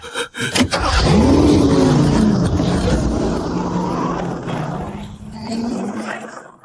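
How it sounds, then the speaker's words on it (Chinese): An animated snow vehicle's engine fires up and revs into a loud, rising roar that holds steady, then eases off near the end. "踩住刹车，按下那个红色的启动键。"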